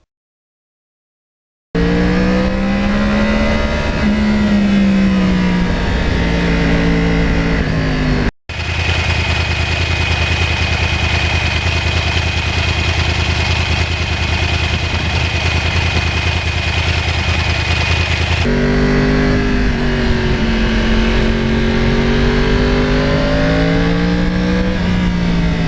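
A one-owner Yamaha R1 crossplane motorcycle with 32,000 miles runs on a quiet exhaust. It idles and revs loudly and close up, with the pitch rising and falling in long sweeps and one brief cut partway through.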